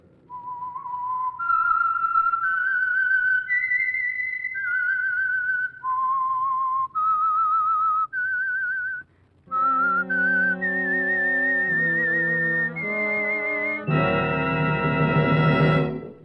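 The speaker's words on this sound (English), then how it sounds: "That whistle is your signal for the Signal Oil Program, The Whistler." A lone whistler carries the eerie theme tune of an old-time radio mystery show, a clear melodic line of sustained notes, later joined by orchestral accompaniment swelling to a full chord.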